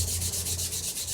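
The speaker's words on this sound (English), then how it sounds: "the grain runs this way, so you want to sand this way" Hand sanding a wooden guitar body with sandpaper along the grain, steady rhythmic strokes with a soft hiss that repeats evenly, close and alone.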